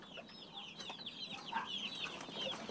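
Chicks cheep in rapid, high chirping bursts while being moved to a larger enclosure, the peeping steady and close with a few lower clucks mixed in.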